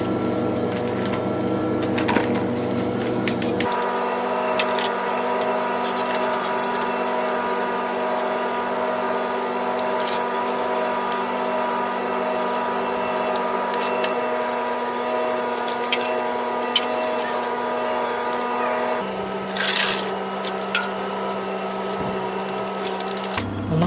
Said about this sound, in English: With that sprayer it's really good because you can get into quite some intricate parts of the bike